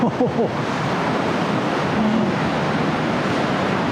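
Surf surging into a sea cave that runs right through the rock at Ghosties Beach on the NSW Central Coast, a steady, loud wash of churning water and wind that holds without a break.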